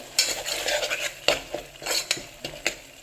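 A spoon mixes two spoons of coriander powder with other spices in a pressure cooker for tomato rice, giving a series of close scraping, clinking strokes against the metal pot, with no talk.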